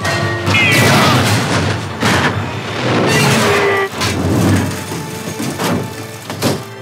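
Tank cannon fire during a World War II tank skirmish against a German Tiger tank, with loud booming blasts and crashes over a dense battle din, several heavy hits spread across the scene.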